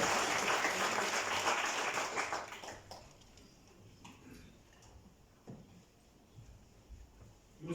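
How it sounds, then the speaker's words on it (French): Audience applause at the inauguration of AVA Technopark in Mauritius, a dense burst of clapping for the first tenant's CEO that is loud for about two seconds, then thins to scattered claps and faint room noise. "On peut l'applaudir, mesdames."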